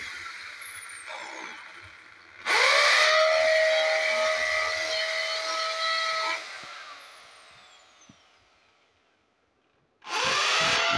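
An electric drill bores holes while an extension board is being made, two loud sustained bursts of whining motor and bit grinding, the first running several seconds before winding down, the second starting near the end.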